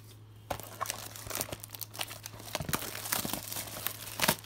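A Select basketball card megabox pack is ripped open, with crisp crinkling and tearing foil in quick irregular bursts, close and fairly quiet.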